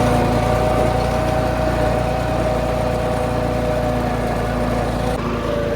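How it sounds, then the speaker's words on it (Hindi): A tractor engine runs steadily at a loud, constant idle close by, its low rumble unbroken throughout with no talk over it, as people ride on the plough hitched behind. "ट्रैक्टर की जो हल है ना पीछे इसके ऊपर बैठे हुए हैं"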